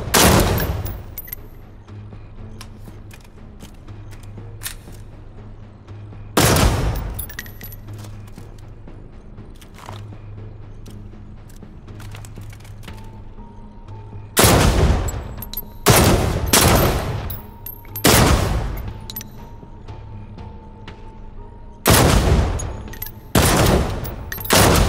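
Firearm gunfire in the video game Defector: sharp, loud single shots and short rapid bursts ring out at irregular intervals over a low steady background hum, with clicks and mechanical sounds in between.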